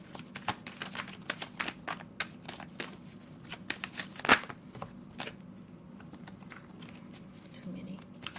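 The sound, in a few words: tarot cards being shuffled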